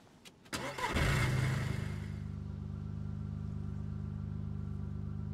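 A car engine in the video game DayZ cranks and catches, revving briefly before settling into a steady, low idle hum that continues to the end.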